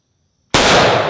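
A single sharp, loud Ruger Mini 14 rifle shot fired outdoors at logs, cracking abruptly out of silence and then ringing off with a short decaying tail.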